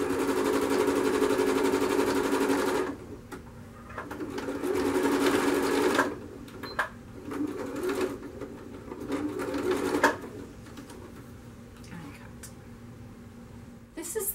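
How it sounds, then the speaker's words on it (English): A sewing machine stitches along the top edge of an unlined curtain in a steady run of bursts, pausing briefly between them, close and fairly loud, with quieter stretches of handling toward the end. "just push the inside back slightly and finish sewing that top edge off"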